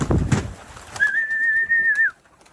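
Domestic pigeons in a grandfather's coop, a rustle and flutter at the start followed by one clear sustained whistle-like call, close and fairly loud, then quiet.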